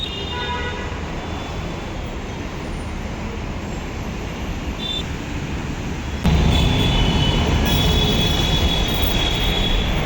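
A train rumbling past near Rampally railway station, its steady roar growing louder partway through, with faint squeals of wheels on the rails.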